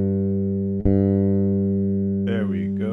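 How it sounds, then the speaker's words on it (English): Bass guitar strings plucked and left to ring while being tuned, a low sustained note with a fresh pluck just under a second in, then a higher string sounding near the end, close and steady with no talking. "So first thing you want to do is tune your bass."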